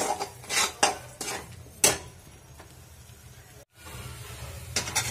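A spoon scrapes and knocks against a pan while paneer masala gravy is sautéed over a gas flame, giving irregular clattering strokes over a low sizzle, with a brief silent gap midway and no voices.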